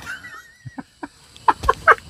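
A chicken near its nest gives a few short, close clucks in an irregular rhythm, growing louder toward the end over quiet forest surroundings.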